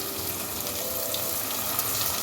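Water poured into a pan of sautéed garlic, ginger and chopped tomato while cooking tinday sabzi, giving a steady hissing sizzle and splashing wash that holds evenly throughout.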